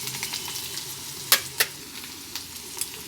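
Bitter gourd pieces with onion and ginger-garlic paste fry in a pan under a constant close sizzle, with a few sharp utensil clacks and scrapes standing out; nobody speaks.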